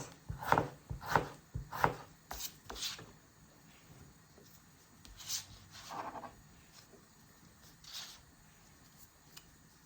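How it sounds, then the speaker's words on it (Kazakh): A knife chops tomatoes on a cutting board, several quick rhythmic cuts at first, then a few slower, sparser strokes, fairly faint. "Қызанағымызды солай майда қылып"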